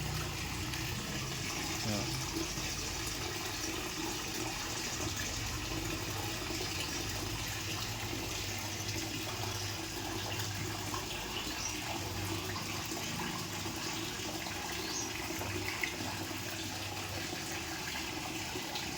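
Water poured slowly and steadily from a container during a catfish farming project, a continuous soft trickling wash that runs evenly throughout with no speech over it.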